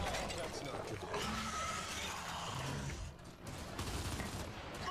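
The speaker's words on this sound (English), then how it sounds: "it's the cover-based shooting, as we're kind of used to with this series" Gunfire rattles in a cover-based shooter game trailer, with dense bursts of shots and mechanical clatter running throughout. A person talks over it the whole time.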